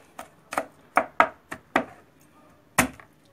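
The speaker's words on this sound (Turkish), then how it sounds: "sarımsaklarımızı da şöyle bir vuruyoruz ve" A knife strikes and chops garlic on a cutting board, seven sharp distinct thuds in an uneven rhythm, close and fairly loud, with no talking.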